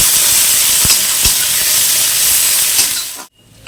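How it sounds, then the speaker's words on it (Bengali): Capsicum, beans and carrots fry in a pan with dry red chilli and cumin, a loud, close, continuous hiss with a couple of brief knocks, cutting off abruptly near the end. "এই সবজিগুলোকে আমি ভালো করে ভেজে নেব"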